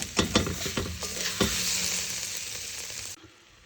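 Carrots sizzle and crackle steadily in a hot pan as they caramelize, with a few clattering stirs early on, before cutting off abruptly.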